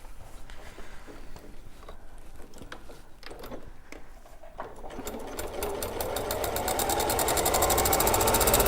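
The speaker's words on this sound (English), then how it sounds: "So if I just stitch a little bit" A sewing machine stitching around a fabric edge, a close, rapid mechanical chatter that starts after a few quiet taps and speeds up into a steady, loud whirring run.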